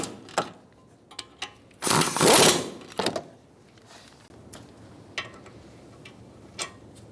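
Wrench clicks and ratcheting while brake caliper bolts on a 2000-2007 Ford Taurus are snugged and torqued to 76 foot-pounds, heard as sparse sharp ticks with one longer burst of mechanical rattling, fairly quiet and close.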